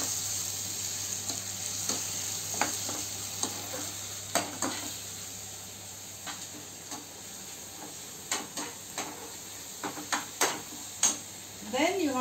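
Ginger garlic paste sautéing in a pan for butter chicken, a soft steady sizzle broken by a run of sharp spoon scrapes and clinks against the pan that grow busier toward the end.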